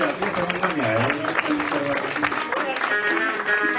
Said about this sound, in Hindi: जोरदार तालियां भाई ना